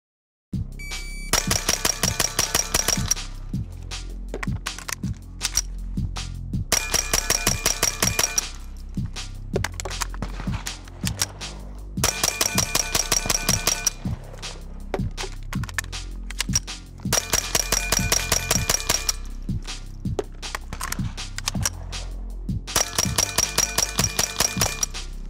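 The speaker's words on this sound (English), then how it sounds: "How fast can you shoot 50 rounds?" Rimfire gunfire at a speed-shooting 3-gun competition in Mexico: five rapid bursts of about ten shots each, fifty rounds in all, each crack paired with a ringing clink from steel targets, with brief pauses between bursts for magazine changes.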